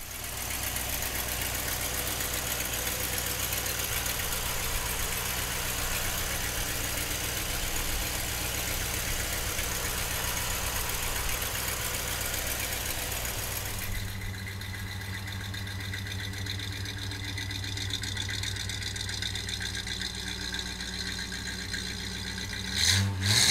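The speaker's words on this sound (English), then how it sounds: "let's fire this Cadillac up for you right now" A 1950 Cadillac convertible with a 331 engine idles steadily nearby, a continuous low rumble that shifts to a smoother, quieter tone partway through, with a brief clatter at the very end and no talking.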